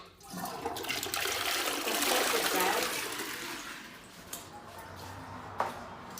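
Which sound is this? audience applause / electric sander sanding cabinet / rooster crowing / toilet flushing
toilet flushing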